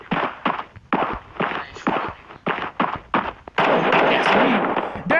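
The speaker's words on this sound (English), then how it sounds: "I just heard a gunshot." Gunfire in the online shooter video game Bullet Force, a string of sharp loud shots in quick irregular bursts, followed by a longer sustained blast of noise near the end.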